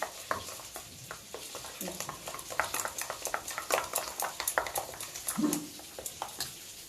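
A utensil whisks yogurt briskly in a bowl, quick soft rhythmic clicks and scrapes repeating close by, with no talking.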